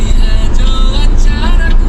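A car driving past on an off-road route, its engine and tyre rumble loud and close, steady and continuous throughout.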